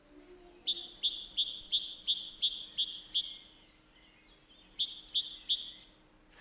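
A songbird delivers two bursts of rapid, evenly spaced high chirps, a long run of about a dozen notes, a pause, then a shorter run, clear and close against a quiet background with a faint low hum.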